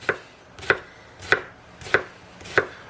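A knife thinly slices an onion on a cutting board: five crisp, evenly spaced chops about half a second apart, close and clear with no talk.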